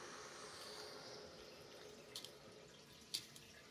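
Water hisses faintly through a toilet supply line as the valve is slowly opened while a bidet seat is installed, a quiet steady rush broken by a couple of small drips or clicks near the end.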